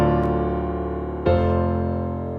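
Two sustained piano chords joined by the sustain pedal, the first ringing and fading before the second strikes at once with no silence between, close and alone.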